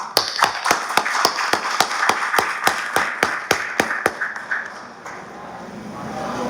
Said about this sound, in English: if you would join with me in giving AmCham and GMSA a round of applause